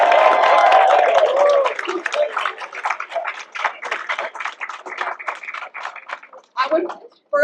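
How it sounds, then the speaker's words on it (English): Applause from a crowd at a large new Buc-ee's grand opening in San Marcos, steady clapping that fades into scattered claps and taps, with a speaker's amplified voice talking over it at the start. "Now we can applaud for everyone."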